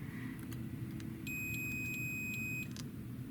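A digital multimeter on its continuity setting gives a steady high electronic tone lasting over a second as two connected resistors are tested, faint above a constant low room hum.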